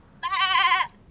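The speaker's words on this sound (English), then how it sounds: "we've got the sheep" Sheep near a log cabin in Wales gives a single clear, close bleat of just over half a second, standing alone against quiet background.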